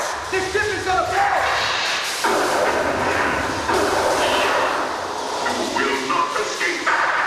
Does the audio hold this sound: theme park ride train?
yes